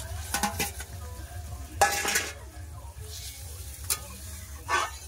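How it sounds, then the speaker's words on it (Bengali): Pieces of fried katla fish go into a boiling curry with a few sharp sizzling bursts, scraping and clinks of a utensil against the pot, and a low bubbling simmer underneath. "এবার ভেজে রাখা মাছ দিয়ে দেবো"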